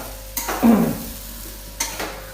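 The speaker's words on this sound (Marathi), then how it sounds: "स्पेशल शाबूची खिचडी बनवायला लागलेले आहे" Sabudana khichdi gets stirred in a pan, two scraping sweeps of a spoon against the pan bottom over a soft sizzle, close and fairly loud, with no talking.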